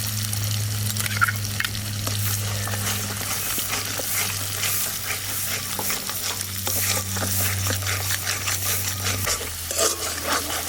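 A paste of milk-soaked cashew, melon seeds and poppy seeds is ground together and fried with ginger and garlic for dum aloo. It gives a steady close sizzle with scraping stirs and light clinks against the pan, over a low hum.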